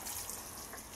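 Water lightly sprinkled over dry compost in a seed tray before sowing peas, a soft continuous hiss of fine spray lasting about a second.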